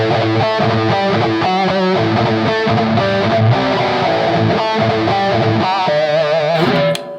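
An electric guitar with heavy overdriven distortion plays chords and riffs steadily, loud and close, with sustained ringing notes.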